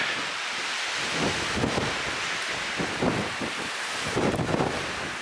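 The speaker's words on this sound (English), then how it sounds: "It's going to be gusty all night, so it's going to be a windy" Strong wind of about 50 mph buffets the microphone by the water in a steady roar with gusty surges, broadband rumbling throughout and louder bursts near the end.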